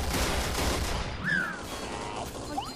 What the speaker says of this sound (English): This rocket launcher has a short range!